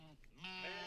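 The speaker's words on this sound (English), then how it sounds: "Where did all these sheep just come from?" A short, close bleat from a sheep in a flock, wavering and nasal, rises near the end over a quiet background.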